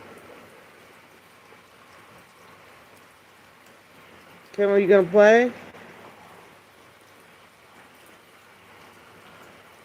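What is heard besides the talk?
rain falling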